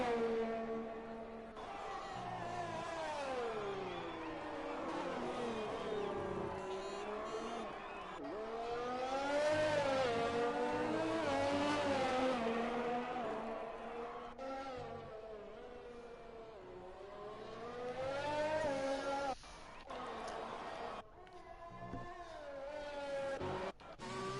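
A Formula 1 car on a flying lap around the Mexico Grand Prix circuit in an F1 racing game, its high engine whine sustained and rising and falling through gear changes, loud and continuous throughout.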